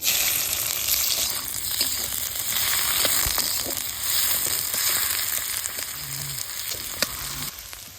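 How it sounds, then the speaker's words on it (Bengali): Chopped onions fry in mustard oil in a wok for goat skin curry, giving a loud, steady, dense sizzle throughout, with occasional small pops and faint stirring. "পেঁয়াজ কিন্তু বেশ লাল লাল করে ভাজি নিয়েই"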